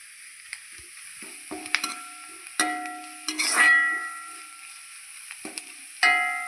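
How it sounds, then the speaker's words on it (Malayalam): Noodle masala with Kashmiri chilli powder is stirred in a pan, producing a steady sizzle and frying hiss with intermittent scraping and metallic clinks of the spoon against the pan. "നന്നായി ഇളക്കി കൊടുക്കാം."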